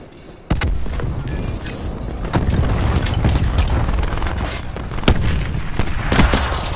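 Cluster grenade detonating in Black Ops 4 team deathmatch, a sudden loud boom followed by a dense string of rapid cracking blasts and rattling bursts, with further sharp booms near the end.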